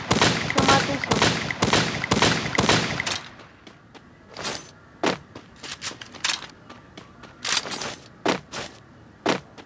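Video game gunfire opens with dense, loud bursts of automatic shots, then breaks into scattered single shots and short volleys with pauses between them.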